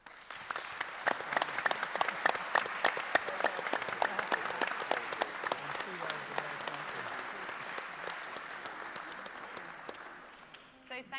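Audience at a hospitality industry summit debate applauding the speakers, sustained crisp hand claps from a sizable room that hold steady and then taper off near the end, with some voices faintly audible beneath.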